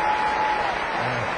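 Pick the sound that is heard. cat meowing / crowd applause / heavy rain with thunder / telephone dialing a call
crowd applause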